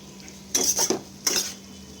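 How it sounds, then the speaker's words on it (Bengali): A spoon scrapes and clinks in a pan of eggplant and fish-oil curry, with two short bursts of stirring close up and quiet pauses around them; no one speaks. "আমি ভালো করে সব কিছু একসাথে মিশিয়ে নিচ্ছি"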